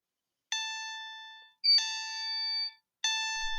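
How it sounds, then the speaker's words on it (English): A school fire alarm sounds in three separate electronic chime-like tones, each ringing steadily for about a second, loud and clear with no voices over it. "why is the fire alarm going off?"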